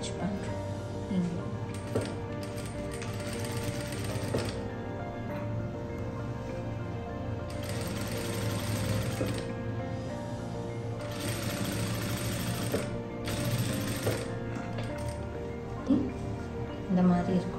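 A sewing machine stitches a seam on a wide-leg jumpsuit, running in steady rapid bursts with brief stops between runs, close and clear, while someone talks over it.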